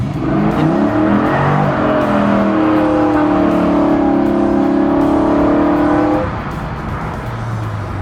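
Chevrolet Nova accelerating hard from a dead stop, the engine note climbing loud and close through a long rising roar before backing off to a lower rumble.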